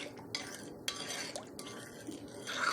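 A spoon stirring yeast mixture in a bowl while making Amish white bread, with quiet scraping swirls and a few light clinks against the dish, close and faint.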